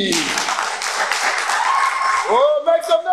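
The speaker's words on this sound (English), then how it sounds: "Clap for that, please. Put your hands together." An audience claps and applauds at a live family celebration, a steady wash of clapping heard under a speaking voice throughout.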